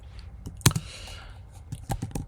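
Computer keyboard typing a code annotation, a few crisp, close keystrokes in an uneven cluster with one louder clack, alone without talking.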